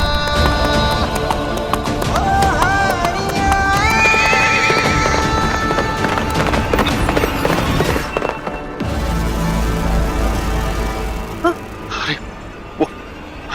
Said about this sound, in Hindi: अरे भाई ये दूल्हे की घोड़ी है।